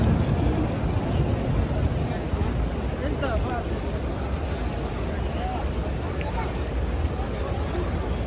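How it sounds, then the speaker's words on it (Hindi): Rain falling steadily at Masjid Nabawi in Madina, a dense continuous hiss with a low rumbling undertone, loud and unbroken throughout. "बारिश भीग रहे हैं।"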